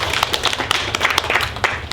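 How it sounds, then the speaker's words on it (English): A first-grade music class claps together in a quick burst of many overlapping hand claps, close and lively, for a brief round with no talking. "Let's give Reese a big round of applause"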